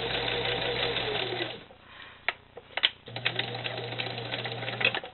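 A sewing machine fitted with a zipper foot stitches on denim, running in two steady whirring bursts with a brief pause and a few clicks between them.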